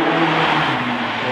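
A Ferrari F12 supercar passes nearby, its engine a steady, dense roar that holds loud and close through the brief moment without fading.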